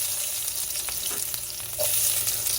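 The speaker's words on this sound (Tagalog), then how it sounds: "mainit na ang ating mantika. Kaya unahin ko na po ang ating bawang" Garlic frying in hot cooking oil, a steady close sizzle with a few stirring scrapes and a brief louder crackle near the end, no voices.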